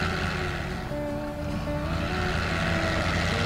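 A smoking truck engine in a video game revs and holds at high RPM, giving a loud, steady droning roar with a slight dip in pitch before climbing again.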